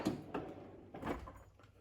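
A metal drawer on a small-engine mechanic's toolbox slides open with a close rolling rattle and a couple of soft knocks, quiet and with no talking.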